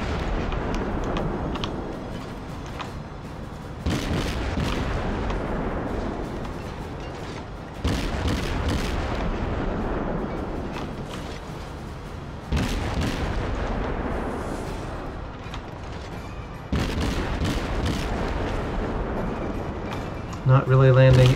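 Heavy naval gunfire trades back and forth in World of Warships, with deep booming salvos and rolling blasts arriving in loud bursts every few seconds, while a voice talks over the battle.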